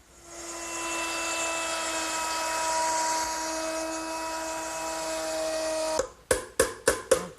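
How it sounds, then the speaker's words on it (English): A router fitted with a 1/4-inch veining bit cuts a groove in a wooden kitchen hutch shelf, a steady high whine that holds for six seconds, then spins down as several quick bursts follow. "I'm going to route it out using a 1/4-inch veining bit set up in my router."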